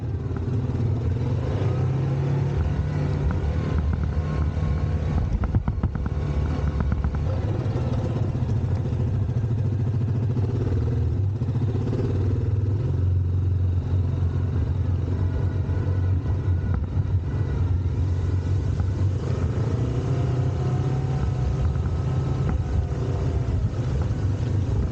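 Yamaha Grizzly 700 ATV engine working steadily over bumpy trail ground, a loud, continuous low rumble with rising and falling revs and occasional clatter, close and alone without talk.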